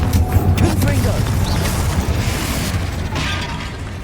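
A Confringo fire spell bursts in Hogwarts Legacy, a loud close blast with crackling debris and mechanical rattle, rolling into rumbling game sound during a spider fight.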